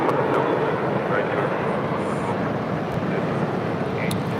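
NetJets Cessna Citation Latitude business jet taking off from LAX, a steady, moderately loud jet roar with a constant hiss and faint higher whine, unbroken for the whole stretch.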